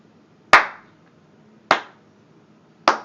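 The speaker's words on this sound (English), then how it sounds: "Slow clap?" Three slow, sharp hand claps spaced about a second apart, each crisp and close with a short decay into near silence.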